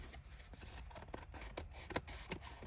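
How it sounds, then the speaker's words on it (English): Scissors trim paper for a shabby flip flop tag journal, a quick run of close, crisp snips and rustles that grows sharper toward the end, with no talk. "I'm just trimming it up. My scissors need cleaned so bad."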